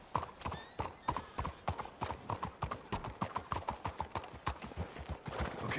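Hooves of trotting horses clop steadily in Red Dead Redemption 2, a busy, fairly even rhythm of many hoofbeats over several seconds, close and moderately loud, with no voices over them.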